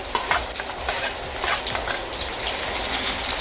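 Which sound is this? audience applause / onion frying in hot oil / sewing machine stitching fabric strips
onion frying in hot oil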